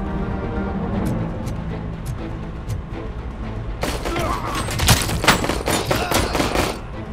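Gunfire in the RoboCop Rogue City game. A few isolated shots ring out first, then a dense volley of rapid, close, cracking shots with mechanical clatter fills the second half.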